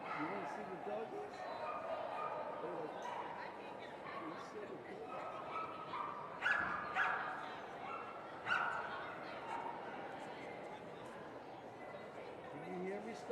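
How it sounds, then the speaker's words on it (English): Dogs bark and yip at a flyball tournament at the 150th Westminster Kennel Club Dog Show. A busy indoor crowd murmurs throughout, and a few sharper barks stand out over the steady din. "You want to see the doggies?"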